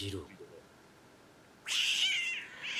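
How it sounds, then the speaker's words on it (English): A cat in an anime episode lets out a loud, drawn-out meow after a short quiet gap, following a brief snippet of speech at the start. "The cat doesn't like Izawa"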